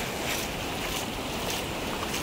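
Choppy sea waves wash onto a beach in a steady, dense rush of surf and wind, with no voices.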